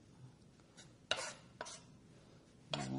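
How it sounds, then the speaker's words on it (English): A kitchen knife mincing fresh garlic finely on a cutting board, heard as a few sharp, separate chopping strikes spaced apart over a quiet background, close and fairly crisp. "I'll just go ahead and mince it with a knife"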